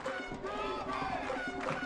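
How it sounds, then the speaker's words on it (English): A Boyd Buchanan crowd at a state championship high school soccer game chants defense, a rhythmic massed shout of voices filling the brief moment at moderate distance. "Chant of defense from the Boyd Buchanan crowd."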